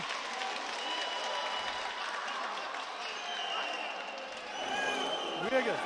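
A boxing crowd at the Tohid Esmaeilnezhad versus Sefa Köksal fight applauds, a distant, steady mass of clapping and crowd murmur running beneath a commentator's voice and swelling slightly near the end.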